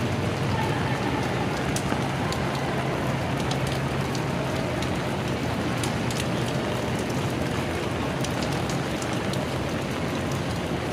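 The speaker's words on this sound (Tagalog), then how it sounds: "Umuulan sa mga oras na ito, 11:12 PM." Steady rain falls at night in Venice Taguig, a continuous dense hiss of drops on surfaces that stays even throughout, with no pauses.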